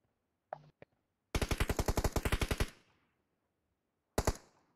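Automatic gunfire in the PUBG Mobile video game: a rapid, loud burst of roughly fifteen evenly spaced shots, followed after a pause by one more short burst, with a couple of brief clicks beforehand and no talk.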